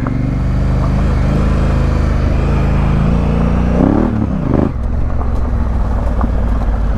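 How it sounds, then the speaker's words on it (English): A Honda Africa Twin motorcycle off-roading, its engine droning loud and close throughout, with a brief rising rev as the rear wheel spins. "bit of wheel spin"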